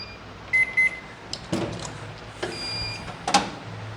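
A microwave oven starting up with a few short bright beeps, followed by clicks and a low steady running hum with occasional clunks, close by and with no talk.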